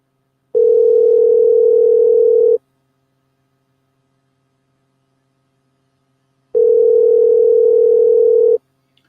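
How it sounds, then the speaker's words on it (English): Two long steady ringback tones while placing a phone call, each about two seconds, separated by roughly four seconds of silence, clean and alone. "Let's see if he answers the phone."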